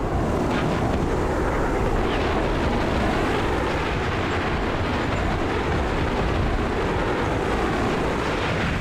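Helicopters thrum steadily through a continuous, dense wall of rumbling rotor and engine noise in the Armored Brigade II war game, loud and unbroken without pause.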